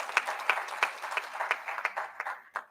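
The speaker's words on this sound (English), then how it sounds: "A bigger clap for Dr. Isaac" Applause from a conference audience after a talk on hypertension, a dense run of clapping over about three seconds that thins out toward the end with a few final claps.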